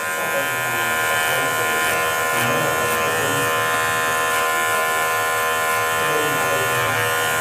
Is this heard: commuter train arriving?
no